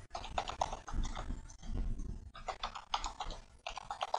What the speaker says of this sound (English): Now I am typing password.